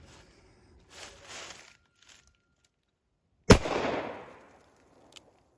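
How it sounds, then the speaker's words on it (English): A Smith & Wesson 29-2 revolver fires one .44 Special round outdoors: a single sharp, loud crack with a rolling echo tail. Faint rustling and handling noises come before it. "I'll shoot the 44 Special over to the left"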